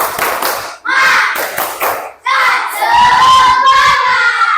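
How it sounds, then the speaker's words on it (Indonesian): Classroom group doing a rhythmic clapping chant, tepuk semangat, with bursts of patterned claps broken by short pauses, then voices shouting the chant together loudly and close. "sekarang kita tepuk semangat dulu"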